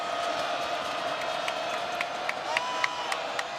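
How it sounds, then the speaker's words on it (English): A packed college basketball arena at Maryland, during a men's game against Western Carolina, fills with a loud, sustained crowd roar, with rising cheers and sharp shouts layered over the din. "this crowd behind us is deafening"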